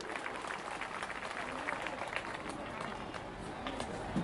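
Crowd applause at an outdoor Kali Puja festival stage in Bohra, a wide, even wash of clapping heard from some distance, fairly faint and continuous with a murmur of voices mixed in.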